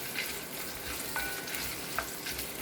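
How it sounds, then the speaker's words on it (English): Red chilies, ginger, onion and garlic fry in a pan, a soft, fairly faint sizzle with a few light stirring ticks over a short stretch. "Add it and fry it till onion becomes translucent."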